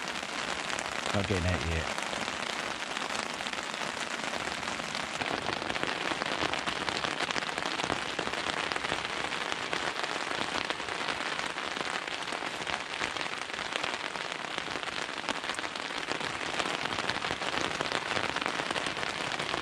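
Heavy rain drums on a tent during a woodland wild camp, a dense, constant hiss and patter filling the whole stretch, with a person briefly speaking near the start.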